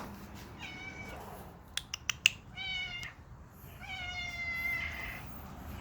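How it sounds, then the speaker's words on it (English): A cat meows twice, clear and fairly close, with a couple of short clicks between the calls over a low background hum. "Kitty!"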